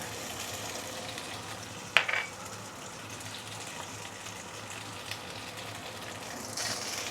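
Marinated meat fries in shallot oil with a faint, steady sizzle, broken by a couple of brief clinks and a small burst of louder spitting near the end.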